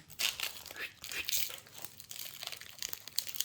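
Foil wrapper of a Pokémon Célébration booster pack, part of an Elite Trainer Box, being torn open and crinkled by hand, close and bright, in several rustling bursts with no talk.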